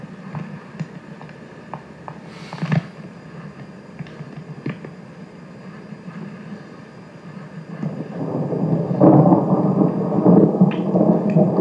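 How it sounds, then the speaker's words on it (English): Low rumbling thunder rolls through a steady background of rain-like noise, swelling louder near the end. "We're hearing thunder."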